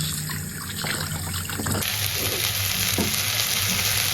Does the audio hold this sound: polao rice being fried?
yes